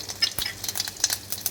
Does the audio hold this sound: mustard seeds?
yes